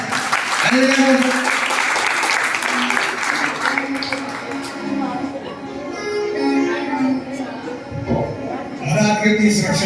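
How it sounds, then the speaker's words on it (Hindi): Applause at a gathering in a Digambar Jain temple in Delhi, clapping spread through the hall with voices and a harmonium-like tone layered over it, loud and fairly dense, then thinning out. "ताली बजाओ भैया, ताली बजाओ।"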